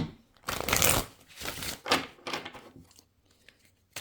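Oracle cards shuffled by hand during a tarot reading, a few bursts of papery riffling and slapping with cards slipping out of the deck, close and fairly quiet, with brief pauses between bursts.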